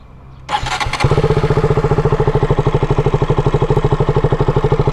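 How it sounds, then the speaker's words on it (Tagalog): A KTM Duke 200 motorcycle engine cranks and catches, then settles into a loud, rapid, even idle thumping close by. "Ganito yung tunog ng 200cc na Duke 200."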